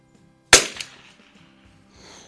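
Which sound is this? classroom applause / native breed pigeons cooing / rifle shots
rifle shots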